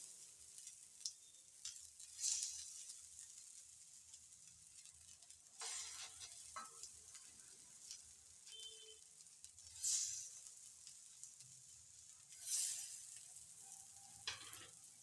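Cutlets frying in oil on a griddle pan, a soft continuous sizzle with several brief louder hissing bursts and occasional light scraping taps.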